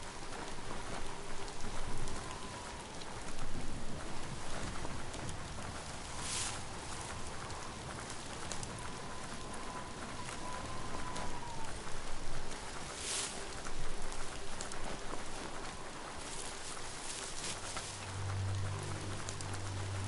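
Steady rain pours down in the Biomutant game, a dense continuous hiss with gentle swells and a few brief sharper bursts, and no talk over it.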